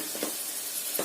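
Shredded cabbage frying in a pan for a Kerala-style thoran, a brief steady sizzle with a few soft stirring scrapes, close and continuous.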